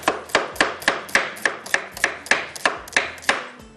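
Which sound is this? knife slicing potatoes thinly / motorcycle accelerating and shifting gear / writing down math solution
knife slicing potatoes thinly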